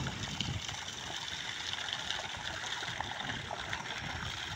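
Pumped water splashes forcefully into a lake, a continuous rushing, churning wash of water heard close and steady without speech.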